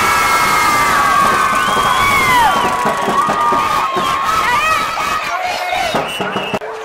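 A loud crowd at a Matlachin dance beauty-pageant final cheers and applauds in a large pavilion, with high whoops and children's shouts rising over continuous clapping and chatter, close and sustained throughout.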